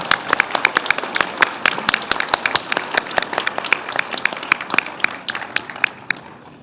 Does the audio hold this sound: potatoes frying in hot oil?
no